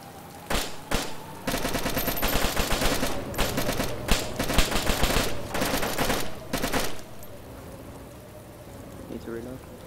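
A heavy outdoor fusillade of rapid gunfire aimed at a truck, loud overlapping bursts of shots for several seconds before cutting off, leaving quieter ambience with faint voices.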